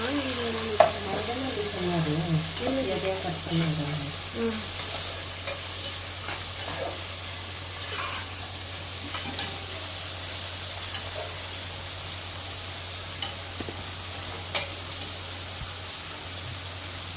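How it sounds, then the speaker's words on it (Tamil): Onions sautéing in a pan for chicken biryani, a steady hissing sizzle with intermittent spoon scrapes and taps, close and even, with a brief voice early on. "ஆனியன் நல்லா வதங்கிடுச்சுங்க."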